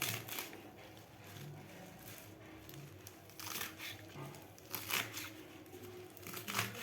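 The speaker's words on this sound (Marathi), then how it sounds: "तर आपल्याला ही मेथी अशी बारीक कापून घ्यायची आहे." Fresh fenugreek (methi) leaves and stems being finely chopped with a knife on a board: quiet, uneven crunchy cuts and rustling that come in small bursts, close up with no talking.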